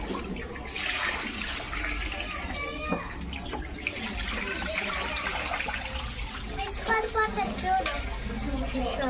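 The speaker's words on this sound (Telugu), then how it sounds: "అమ్మమ్మ చేపల పులుసు వండుతుంది, చూడండి." A fish curry bubbles and sizzles in a pan on the stove, with stirring clatter and people talking over it throughout.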